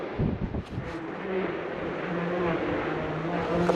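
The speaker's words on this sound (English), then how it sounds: "the sound of Fiesta Rally2?" A Ford Fiesta Rally2 car drives through a forest some two kilometres off, its engine a faint, steady hum with shifting tones echoing among the trees, under rustling wind.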